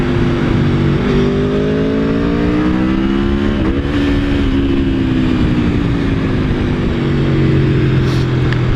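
An Aprilia Tuono V4 1100 Factory naked motorcycle's V4 engine roars loudly and close, its pitch dropping in steps through several downshifts with blips and pops between gears.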